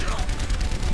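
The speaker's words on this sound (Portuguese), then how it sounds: "eu só entrei metendo tiro pra todo lado" Rapid shotgun-style gunfire from Reaper in Overwatch, dense booming shots packed into a second of close, loud combat noise with a voice mixed in.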